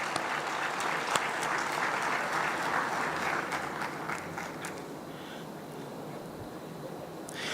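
Crowd at the KwaZulu-Natal 2022 matric results announcement applauds the Premier, dense clapping that holds strong for several seconds and then gradually thins and fades.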